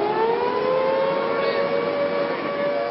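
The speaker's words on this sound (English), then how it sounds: "The sirens blare" A civil defense tornado warning siren wails steadily, a sustained rising and falling tone that fills the clip without a break, loud and continuous with no other sounds.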